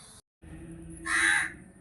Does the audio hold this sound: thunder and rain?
no